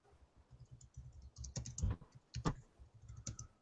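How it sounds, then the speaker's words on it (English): Someone types on a computer keyboard, quiet irregular clicks and clatters in short bursts against a faint background hum, with no talking. "I was actually just typing."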